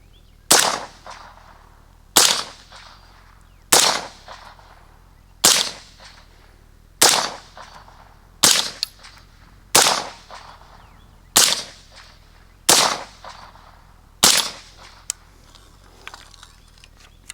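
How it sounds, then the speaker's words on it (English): Suppressed short-barrel 5.56 rifles with a 3D-printed suppressor fire about ten single shots at roughly even intervals, each a sharp crack with a brief decaying tail, loud and close outdoors. "I'm going to shoot them side by side, back to back basically, and see which one sounds best."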